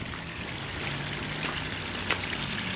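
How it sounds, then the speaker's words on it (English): Water trickles softly in a shaded garden water feature, a faint steady splashing and bubbling with a few brighter drips, heard alone without talk. "Oh, another water feature."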